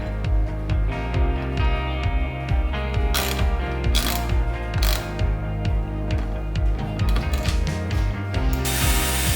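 Ratchet tightening bolts on aluminum angle pieces for a trailer, a close, loud run of quick repeated clicking strokes in a steady rhythm, with a few sharper metallic clanks and no talking.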